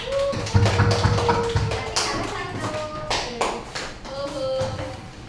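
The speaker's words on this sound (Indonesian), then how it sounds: "Tepuk tangan untuk kelompok 2." Classroom applause for a student group after a presentation: scattered, uneven clapping from a modest group of students, moderately close, with some voices murmuring alongside.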